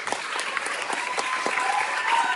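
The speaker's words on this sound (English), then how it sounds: "Why don't we give this guy a round of applause?" Sustained applause from an arena audience at an African music event, steady dense clapping filling the whole moment at moderate loudness, with no voices on top.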